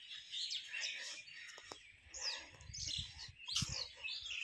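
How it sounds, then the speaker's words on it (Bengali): Small birds chirping and tweeting in quiet rural Bangladesh beside a road and bamboo grove, scattered bright calls, fairly faint and distant, with no traffic or talk. "শুধু একটু মন দিয়ে শুনতে পেলেই বুঝতে পারবে শুধু পাখি ডাকছে"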